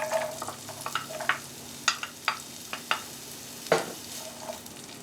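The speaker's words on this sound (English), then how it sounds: "I'm going to add a little bit more butter back to my pan, and I'm going to add in my onion." Chopped onion sautés in butter in a pan, a soft steady sizzle under a run of sharp clicks and scrapes as a utensil stirs it, close by and with no talk.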